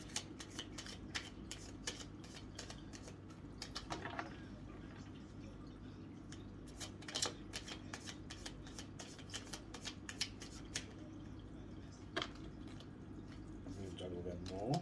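Tarot cards being shuffled by hand during a reading, a run of soft riffling and flicking taps that come and go across the whole stretch, close and fairly quiet, with a person talking at times over them.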